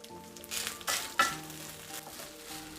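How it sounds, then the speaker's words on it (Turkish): Lamb pilaf is stirred in a pot, giving a few soft scraping strokes over a low, faint sizzle, with quiet gaps between the movements. "Şöyle bir karıştıralım."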